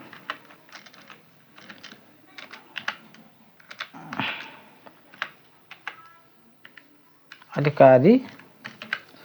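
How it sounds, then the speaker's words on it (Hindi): Hindi text being typed on a computer keyboard in MS Word, with irregular bursts of close key clicks and taps across the whole stretch, a brief louder rustle midway and a strong thump near the end. "इस प्रकार से हमने इतना हिंदी टाइपिंग कर लिया।"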